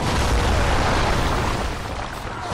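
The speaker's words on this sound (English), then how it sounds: "I'm gonna get my gun out now." A gunshot in the video game Bloodborne lands as a loud, close, broad boom that fades over a couple of seconds.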